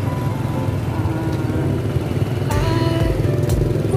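Steady engine drone of motorcycles in street traffic on Dongpalane Road, Vientiane, Laos, with a couple of passing bikes rising in loudness near the end and a constant rumble throughout.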